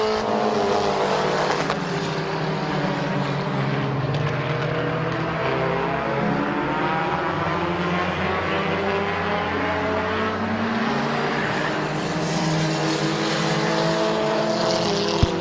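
Compact division race cars roar around Midvale Speedway in a continuous loud engine drone, several cars layered with shifting pitch as they pass, with no voices over it.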